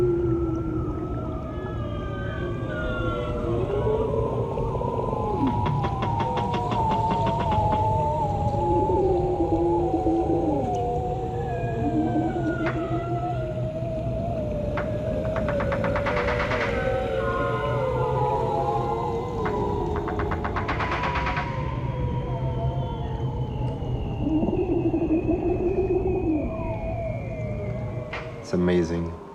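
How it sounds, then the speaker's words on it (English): Underwater hydrophone recording of bearded seals in the St Lawrence River, with long descending whistles and trills repeating over a constant low murky background, played back through a speaker while people nearby can be heard faintly. "Most of what you're hearing is the bearded seal, known as the ujuk."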